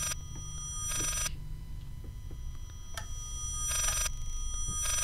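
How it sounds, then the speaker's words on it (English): A telephone in the horror video game Layers of Fear rings in repeated electronic bursts separated by pauses, with soft ticking and a low ambient hum between rings. "Can I answer the demon phone, please?"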